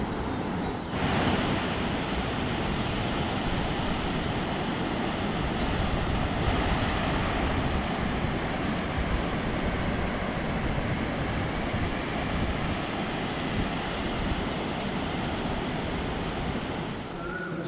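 Sea waves at Tithal beach in Gujarat, with rough, stormy water, make a steady broadband roar of surf mixed with wind buffeting the microphone, continuous and loud throughout with no talking.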